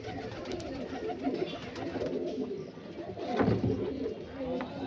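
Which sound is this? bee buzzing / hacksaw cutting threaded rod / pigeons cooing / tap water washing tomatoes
pigeons cooing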